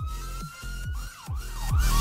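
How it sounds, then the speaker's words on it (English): NYPD-style police siren in a mobile video game wails and yelps in short sweeping cycles, loud and close, interrupted by brief low electronic blips. "That's how NYPD sirens are."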